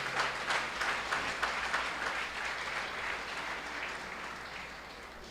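Applause from a congregation in church, a burst of dense clapping that starts strong and gradually tapers off, with a low hum underneath.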